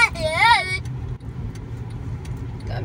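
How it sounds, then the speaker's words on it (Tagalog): Cars creep along a congested road near a church in Cavite, Philippines, a steady low engine rumble running throughout, with a voice rising briefly over the traffic at the start. "Traffic na."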